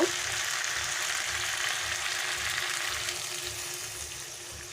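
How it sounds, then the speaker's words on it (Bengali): Hot water poured into a pan of sizzling jackfruit chicken, giving a steady soft hiss and bubbling that holds evenly and fades slightly toward the end, fairly quiet, no voices. "এবারে আমি এর মধ্যে জল দিয়ে দেব আর গরম জলই দেব"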